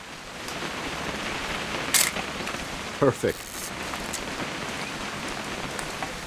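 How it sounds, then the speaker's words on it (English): Steady rainfall in the video game What Remains of Edith Finch, a soft, even patter under a brief spoken word, with a few short clicks and knocks breaking through. "It's gonna rain the whole weekend,"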